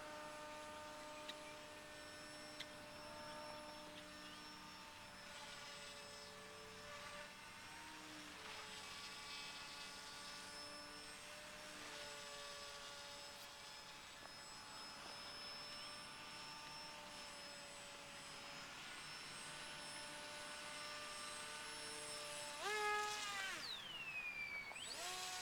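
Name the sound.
radio-controlled Wild Hawk model airplane with rudder gyro flying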